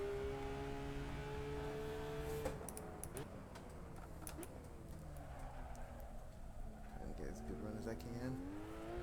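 A race car engine in the Assetto Corsa racing game holds a steady drone and shifts pitch as the car is driven hard, with faint ticking clicks over it.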